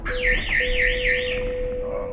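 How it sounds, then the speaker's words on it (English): An alarm going off in an elevator, a loud electronic warbling tone that sweeps up and down repeatedly over a steady sustained beep, with the warble fading toward the end. "a random alarm went off"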